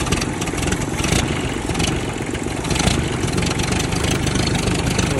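A 1956 Ford 800 tractor engine cranking and running, a steady loud mechanical chug that fills the clip with broadband rumble, slight swells suggesting throttle changes.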